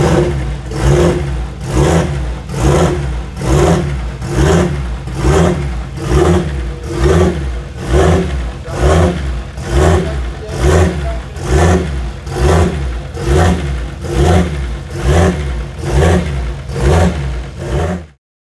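A PRP-built Nissan GT-R engine on a dyno revs in a steady repeating rhythm, roughly one blip per second, loud and close, with no talking before it cuts off at the end.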